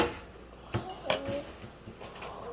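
Knife scraping and clinking against a plate while cutting French toast, with a few sharp metallic clinks over a low kitchen background.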